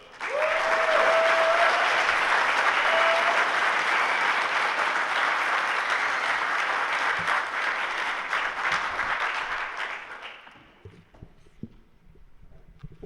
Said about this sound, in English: So please let's give him a huge round of applause and welcome him to the Toorcon stage.